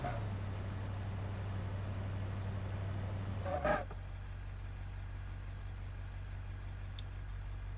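A car engine in a racing video game on a jungle rock hillclimb course, a steady low drone that holds level, shifts abruptly midway with a brief rising whine, then settles into a lower continuous hum, with no talking.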